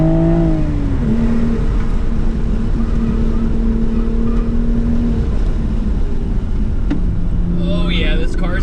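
Toyota Supra Final Edition engine drones steadily while driving, a loud continuous hum that shifts pitch as it changes gear, with a brief voice near the end.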